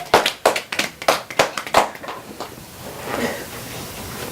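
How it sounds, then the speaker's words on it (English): A short round of clapping from an audience at a trauma-informed schools conference, a few uneven bursts of hand claps close by that fade out after about two seconds, leaving quiet room noise. "Give yourselves a round of applause for keeping Petunia safe."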